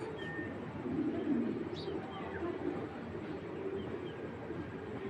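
A pigeon coos softly nearby, a low rolling call rising briefly then fading into quiet background hum, with a faint chirp above.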